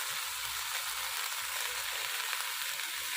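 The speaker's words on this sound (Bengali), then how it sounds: "এখন শাকগুলো দিয়ে দেবো।" Eggplant frying in oil with fenugreek greens added, giving a steady close hiss and crackle of sizzling that carries on evenly, with no speech.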